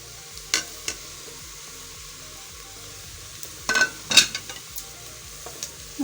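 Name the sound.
onions and spices frying and being stirred in a pot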